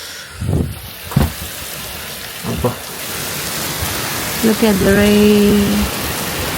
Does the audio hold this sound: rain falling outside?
yes